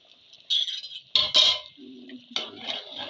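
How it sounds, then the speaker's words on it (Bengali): Metal lid lifted off a pot of slow-cooking mutton curry, a few close clinks and scrapes of metal on metal followed by a soft rattle as it is set aside. "একবার ঢাকনাটা খুলে একবার দেখে নেবো।"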